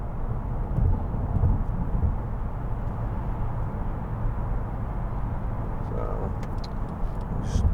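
Steady road and engine rumble from inside a 2014 Mercedes-Benz C250 cruising on a motorway at 70 mph and about 1600 rpm, a constant droning hum throughout.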